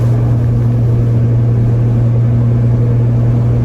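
A 1979 Chevy C-10 pickup revived after eight years in a tow lot, cruising at about 60 mph, with a loud, constant low engine and road drone heard from inside the cab with no talk.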